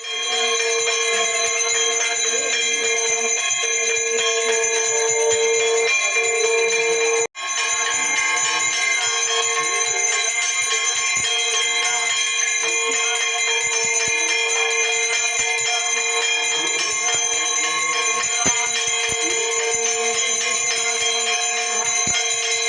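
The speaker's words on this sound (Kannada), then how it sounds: "ಗಂಟೆ ಹೊಡಿಕೆ ನಿಂತವ್ರೆ ಇವ್ರು ಹೊಡಿತಾರೆ ಗಂಟೆ" A metal prayer bell rung continuously at a household shravana puja, a loud sustained bright clanging with dense overlapping strikes throughout, briefly interrupted once.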